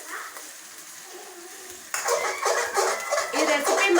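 Curry being stirred in a cooking pan, with soft scraping and sizzle that grows louder and busier halfway through, close and continuous, with faint talk in the background.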